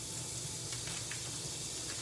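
Butter sizzling in a hot pan with pork ribeyes, a steady, dense hiss and crackle that holds even and close throughout, with no talking.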